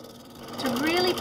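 A sewing machine runs while stitching around a circle in free-motion quilting, a short steady whir that rises in the second half, with a voice talking over it.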